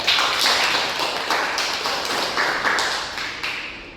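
A classroom audience applauds during a microteaching lesson, a close, dense patter of many hands clapping steadily for several seconds before easing off slightly at the end.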